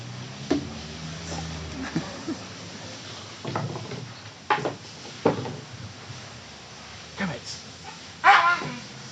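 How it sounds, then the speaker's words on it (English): A dog behind the speaker playing with a large stick, scattered thumps, scrapes and brief whimpering and yipping sounds at close range, mixed with talk throughout. "I'm just going to have to move the dog from behind me, who's found a stick."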